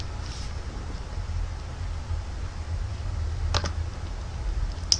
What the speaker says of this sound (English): So you want to type in Cam Studio.